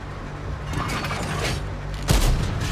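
An AP-loaded tank cannon fires in World of Tanks on console, a sudden heavy boom over a constant low engine rumble, loud and close, with no voices.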